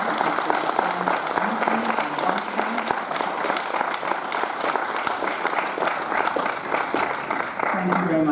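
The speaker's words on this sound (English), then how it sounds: "So I'd like you to raise your hands and give them another round of applause." A large audience gives performers a sustained round of applause at a Gullah/Geechee and Bajan cultural event, steady dense clapping for over eight seconds with faint voices mixed in.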